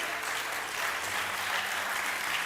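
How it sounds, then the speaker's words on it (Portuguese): Applause from a church congregation during a Portuguese-language sermon on the Christian family, a steady dense wash of many hands clapping together, continuous and fairly close, with no speech over it. "Vai dar um aplauso para o Senhor se o acredita."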